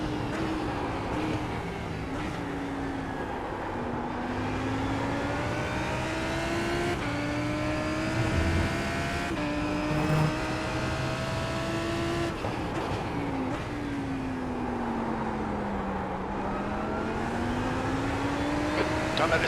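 GT3 race car engines lapping Daytona in the iRacing video game, a loud, steady engine drone with pitch rising and falling as the cars accelerate and lift off the throttle, heard under a commentator's voice throughout.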